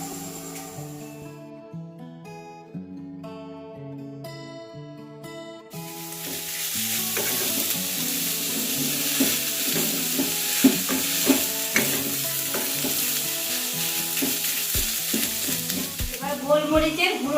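Chicken mince for momo filling drops into a hot pan and erupts into loud, steady sizzling, with scraping stirs of a spatula scattered through the frying after a quieter stretch of music at the start.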